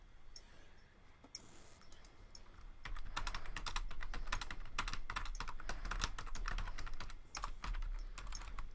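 Rapid typing on a computer keyboard, with dense bursts of clicking keystrokes that start softly and grow busier and louder after a few seconds, close by over a low background hum, with no talking.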